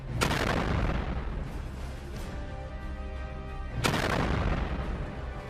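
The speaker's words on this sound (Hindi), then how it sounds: "ये ड्रोन दौड़ता हुआ जा रहा है और सामने खड़े ट्रांस वर्ल्ड नेविगेटर पर जाकर ये हमला कर देता है, जिसमें जोरदार धमाके होने लगते हैं" A Houthi drone boat strikes the ship Trans World Navigator, producing two sharp, heavy blasts a few seconds apart, each followed by a rumbling roar and a ringing, lingering tail.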